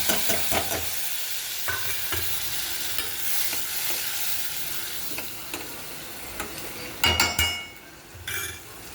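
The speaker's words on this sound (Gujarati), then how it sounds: "અને હવે આ હલાવી અને આમાં જોઈ દેવાનું." A spoon stirs turmeric, coriander-cumin powder and Kashmiri red chili in a pan of sizzling mixture, with a soft frying hiss under scattered scrapes and metallic clinks, and a brief louder clatter near the end.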